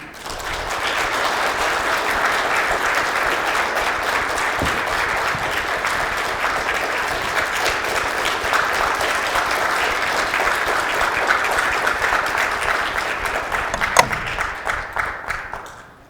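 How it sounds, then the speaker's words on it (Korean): Sustained, dense audience applause fills a breakfast forum hall as Korean presidential candidate Ahn Cheol-soo of the People's Party is welcomed, loud and even for many seconds before tapering off at the end. "여러분 환영과 격려의 박수 부탁드립니다"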